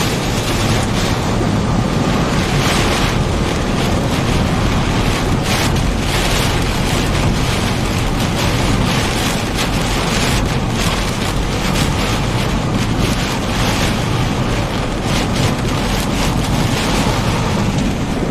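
Strong storm wind during Minnesota storms, a loud, constant roaring rush with heavy buffeting against the microphone, dense and unbroken for the whole stretch.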